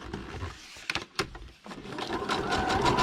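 A sewing machine stitches around a paper piece with a short whirring run, a couple of sharp clicks and a pause, then a steady buzzing stitch that builds and continues to the end.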